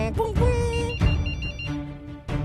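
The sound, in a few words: person imitating a mobile phone ringtone with mouth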